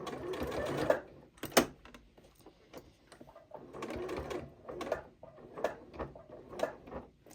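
A Janome 8200 QCP sewing machine stitches a fabric bowl cozy toward the middle of a dart, running in several short bursts separated by pauses, with small clicks and knocks between runs.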